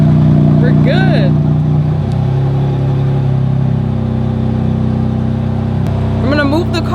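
A 2018 BMW M4 idles with a steady low engine drone, close and fairly loud, while a person talks over it intermittently.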